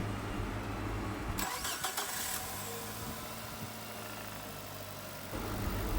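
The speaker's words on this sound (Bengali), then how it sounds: "তো এখন আমরা ইঞ্জিনটা চালু করব।" A car engine cranks with a brief whirring starter burst, then catches and settles into a steady, close idle rumble that runs to the end.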